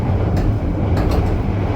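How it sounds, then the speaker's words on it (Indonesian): The Jaka Tingkir economy class train runs noisily at speed, heard from inside the carriage as a loud continuous rumble and roar, with a few brief hissing clatters cutting through. "kalian bisa dengar berisiknya kereta ini ya"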